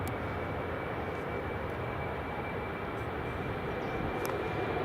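A BA CityFlyer airliner departs Edinburgh Airport with a continuous broad engine roar at steady loudness, heard from a distance and alone, with no voices.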